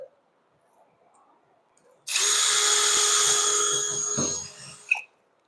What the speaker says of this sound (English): I'm going to pre-drill so this doesn't split.